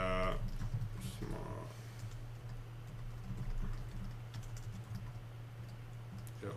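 Computer keyboard typing during a SoapUI and LoadUI Groovy scripting webinar, quiet scattered key clicks over a steady low hum, with a voice faintly in the background.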